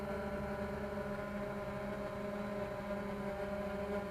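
A 3DR Solo drone hovers and yaws in light wind, giving a steady, fairly faint buzzing whine of its motors with no speech and no breaks.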